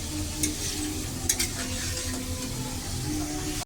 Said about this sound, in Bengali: এবার আলু ভাজা, আলুটা লাল লাল করে ভেজে নিলাম।